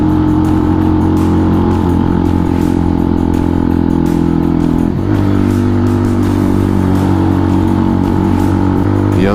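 A mirrorless motorcycle engine idles and revs close by with a loud, steady droning rumble that dips briefly mid-way before settling back into a constant throaty hum.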